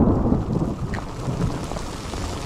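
A thunderstorm on a high mountain trail in Colorado, with heavy rain pouring and deep rolling thunder rumbling continuously, loud and close, with no voices.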